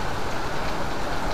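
Steady, dense hiss of rain falling outdoors at a 17 August Independence Day competition, a constant wash of noise with no pauses.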